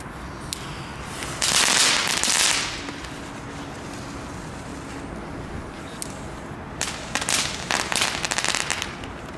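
Small firecrackers pop and crackle in quick bursts, a fizzing flurry early on and another crackling cluster near the end, with quiet hiss between.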